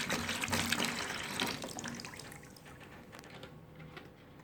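Rose water poured in a steady stream from a bottle, about 700 ml, for homemade hand wash, a continuous splashing gush that starts strong and gradually softens as the flow tapers off, with no voices.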